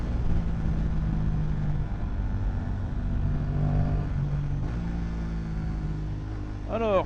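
An Aprilia RS660 / Tuono 660 motorcycle engine runs on a morning road, a steady mid-range drone with a rising rev near the end, while someone talks over it.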